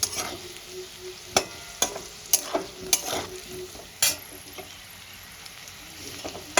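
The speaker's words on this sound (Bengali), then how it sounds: "এরকম লাল লাল করে ভেজে নিতে হবে বন্ধুরা" Katla fish heads fry in hot oil, a low steady sizzle broken by sharp clinks and scrapes of a spatula turning them in the pan, with no voices.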